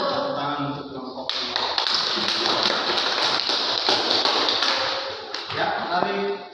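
A classroom applauds a group presentation with a burst of many hands clapping, starting after a short pause and continuing steadily before tapering off.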